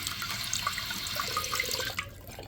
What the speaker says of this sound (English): See, it's filling water up